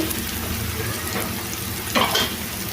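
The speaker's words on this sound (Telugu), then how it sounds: "ఇప్పుడు దీంట్లో సొరకాయ ముక్కలు వేసుకోవాలి" Bottle gourd pieces fry in a pan with ginger garlic paste, giving a steady close sizzle throughout, with a brief stirring scrape near the end and no voices.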